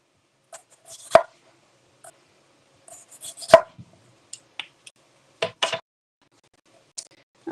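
A knife slicing food into thin slices on a cutting board, with sparse, close, sharp clicks and taps spaced irregularly against near silence.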